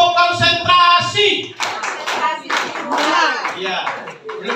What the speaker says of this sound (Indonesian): Jadi tangannya ditepuk, kakinya dihentakkan dengan kuat.